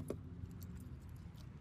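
Keys jangle close by for a short moment as someone fetches them to unlock a Jeep, with a quiet low rumble underneath and no talking.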